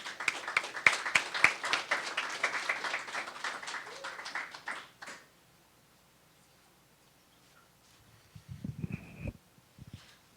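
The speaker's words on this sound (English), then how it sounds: "Please join me in giving a round of applause for Charlie as he comes down" Applause and clapping from an audience greeting Charlie Fyffe, a guest speaker, fill the first five seconds with dense clapping, then fade to near silence before a few brief noises near the end.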